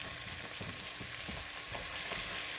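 Beef stew with a spoonful of flour browns in a pot, a steady bright sizzle up close with soft, irregular stirring scrapes beneath it and no voices.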